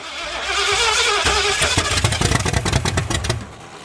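A 1981 Ford Mustang with a 5.0 V8 and open headers, parked for nearly 30 years, cranks loudly with its timing advanced, a whirring starter building into a rapid, uneven train of sharp exhaust pops close by.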